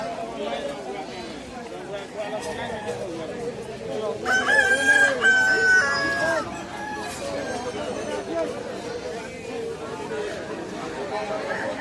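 Roosters crow loudly over a busy Sunday chicken market crowd in Braminipal, with clucking and overlapping chatter throughout; one crow rises clearly above the din midway.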